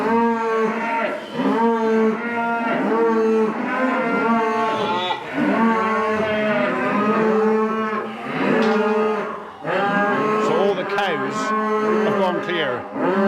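Several calves mooing in a farm setting, a steady run of drawn-out bellows one after another with brief gaps, fairly close and clear with no talking.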